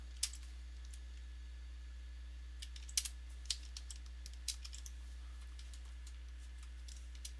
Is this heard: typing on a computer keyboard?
yes